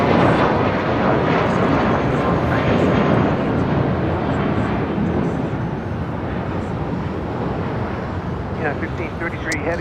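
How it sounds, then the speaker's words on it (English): A Boeing 737 airliner passes at LAX with a loud, continuous broadband roar that holds steady throughout and fades slightly toward the end, mixed with wind noise and faint voices. "Here's the 737. It just passed by an A320."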